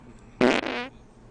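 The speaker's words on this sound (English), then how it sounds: "And here's a butt burp." A short fart sound effect played from a sound device, one loud buzzing burst lasting about half a second, close and alone.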